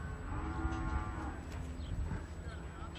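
A buffalo calf calls during a training session on horseback, giving long, hoarse, mooing bawls close by that run almost continuously over low rumbling background noise.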